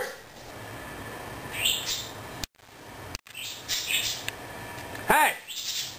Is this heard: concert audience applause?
no